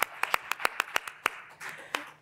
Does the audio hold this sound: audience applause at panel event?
yes